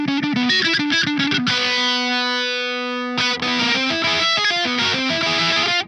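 A distorted electric guitar plays a fast riff, pauses on a long ringing chord, then resumes the busy picking, loud and saturated.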